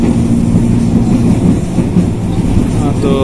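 CLI 125 test train passing through Manggarai station, a loud continuous rumble of wheels and cars close by with a faint squeal near the end, no talk.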